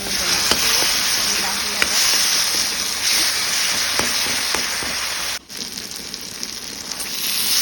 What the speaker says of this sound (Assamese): বিলাহীৰ পৰা তেল নিগৰালৈকে ভাজি লৈছোঁ।